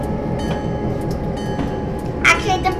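Train running in Train Simulator 2013, a steady low rumble of rolling wagons with faint rhythmic clatter, a brief louder squeal or tone near the end, with talk over it.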